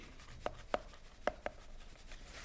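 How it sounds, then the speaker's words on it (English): Marker strokes on a board come as four short scratchy taps spaced unevenly over a quiet room, faint and close. "let me write it here"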